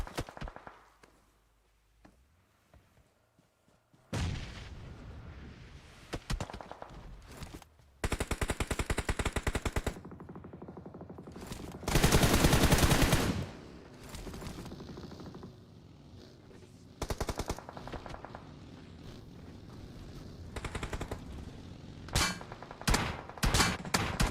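Gunfire in a PUBG Mobile match during a competitive scrim: scattered single shots and several long, loud automatic bursts with brief pauses between, heard without talk.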